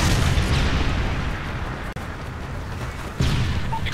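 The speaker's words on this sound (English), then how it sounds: "Friendly Predator missile inbound." A Predator missile strike explodes in Call of Duty: Modern Warfare 3 multiplayer as a loud, sustained rumbling blast that drops out briefly and then swells again with a second burst near the end.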